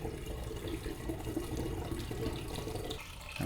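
Nettle wine pours steadily from a demijohn into bottles, leaving the yeast sediment behind, a continuous rushing liquid flow that stays fairly even throughout with no speech.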